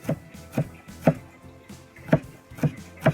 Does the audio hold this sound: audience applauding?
no